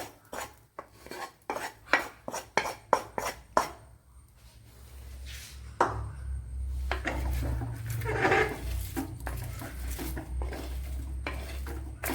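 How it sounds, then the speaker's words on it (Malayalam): A utensil scrapes and clanks rhythmically against a clay pot of chicken curry, quick strokes at first, then a softer sizzle and scraping continue. "ഇനി ഇത് നല്ല പോലെ ഒന്ന് ഇളക്കി യോജിപ്പിച്ചു കൊടുക്കണം"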